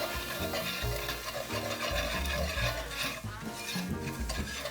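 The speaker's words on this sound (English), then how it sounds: "I'm going to whisk it in so it doesn't get lumpy" A whisk works flour into broth for a fish curry, making a steady, rhythmic scraping and swishing against the pot. The sound is close and continuous, with no speech.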